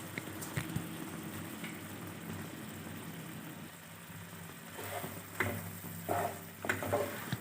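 Pepper chicken, sprinkled with ground roasted spices, sizzles quietly in a pan under a low steady hiss, with a few sharper stirring scrapes of a spatula near the end.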